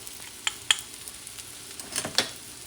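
A spoon stirs paprika into a wild boar picadillo with tomato paste in a pan. A few short scrapes and taps of the utensil sound over a soft, low background sizzle.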